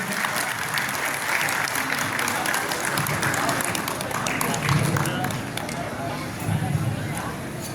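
A crowd at an anniversary celebration and Halal Bihalal gathering gives sustained applause for the Minister of Religious Affairs, a dense wash of clapping mixed with crowd noise and some voices.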